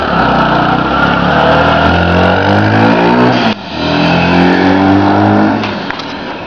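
A loud turbocharged Honda CG 150 motorcycle engine revs hard in sustained bursts, briefly cutting out midway before roaring up again, close to the listener.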